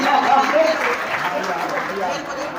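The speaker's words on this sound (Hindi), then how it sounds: "जोरदार तालियां इसके लिए" Loud, continuous applause from a large crowd at an International Women's Day event for railway workers, a dense wash of clapping with voices heard over it.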